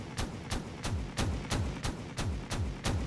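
An automated turret in Space Engineers fires steadily, roughly three evenly spaced booming shots per second, each with a short low tail, moderately distant and with no talking.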